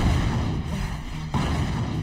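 A bazooka firing in the Rush Wars mobile game, dense booming blasts and rumbling impacts packed together in a loud, continuous battle wash with no voices over it.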